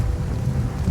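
Steady rain with a low thunder rumble in the survival game Rust, a dense continuous wash of rainfall over a deep rolling low end, loud and unbroken throughout, with no voices.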